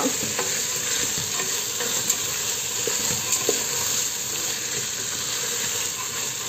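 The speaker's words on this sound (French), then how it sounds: "je rajoute mes haricots blancs. Je mélange le tout comme ça." White beans are stirred into a pan of frying ingredients for loubia, with continuous sizzle and hiss and occasional soft scraping knocks of the spoon, close and steady with no voices.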